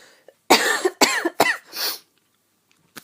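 An asthmatic person coughs close to the microphone in a quick burst of four harsh, wheezy coughs over about a second and a half, followed by silence and a faint breath.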